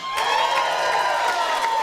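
Comedy club crowd at a stand-up show cheers, whoops and claps together, a dense sustained roar with scattered bright hand claps, moderately loud throughout.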